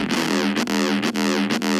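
A distorted, buzzy bass synth growls in short repeated notes, harsh and gritty, with brief gaps between each phrase.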